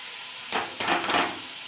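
Pieces of bottle gourd tipped into a pan of fried spices for a Bengali red lentil curry, giving three quick bursts of sizzle and clatter that fade within a second, close and fairly loud with no talking.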